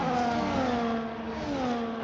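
A race car leaving the pit lane on cold tyres at the Japanese Grand Prix, a loud close engine whine sliding in pitch as it revs, heard alone.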